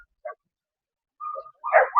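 Several dogs at a dog market in Fergana, Uzbekistan, give a few short, sharp barks and yips at fairly close range, separated by brief silences.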